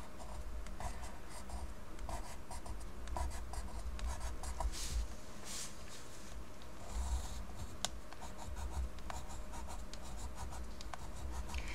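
Colored pencil drawing on paper makes a continuous soft scratchy rubbing, with quick strokes and brief pauses, steady and close with no talking.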